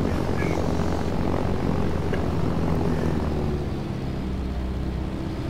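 A propeller aircraft engine drones steadily and loudly in flight in the Arma 3 video game during a night flight, a continuous hum that eases slightly toward the end.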